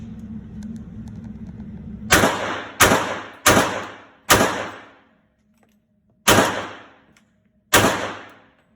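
A gun firing with an extended magazine: six loud, sharp shots with ringing decay, the first four in quick succession and two more spaced out after a pause, following a low mechanical hum.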